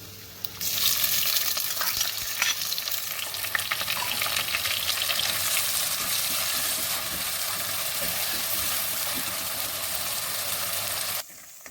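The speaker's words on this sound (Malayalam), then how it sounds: "ചതച്ച ഉള്ളിയിട്ട് നമുക്ക് നോക്കിക്കാം" Crushed onion with ginger and garlic frying in a pan for a crab roast, a loud, steady broadband sizzle that begins abruptly and holds for about ten seconds, with occasional stirring clicks and no talk.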